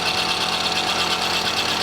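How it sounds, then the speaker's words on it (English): A pneumatic lathe drill press boring into wood, a loud, close, steady high whirring drone with a gritty cutting texture, holding constant without pauses and no voices. "we're going to have a little noise here, but for right now, so what I basically do is just drill it like that"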